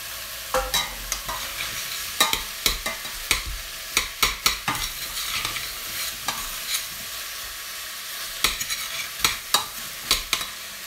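Vegetables for a madras curry sizzle in a pan while a utensil scrapes and stirs in irregular bursts of sharp clacks, close and clear over a steady frying hiss, with no talking.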